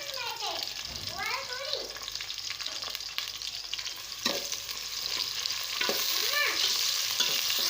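Four chopped medium onions fry in a pan for aloo gosht, a continuous bright sizzle that grows fuller toward the end, with stirring scrapes and a voice speaking over it.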